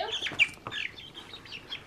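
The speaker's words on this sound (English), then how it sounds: "Look at my two chickens." A few soft chicken clucks and short chirpy calls, close by and fairly quiet, in a brief irregular burst.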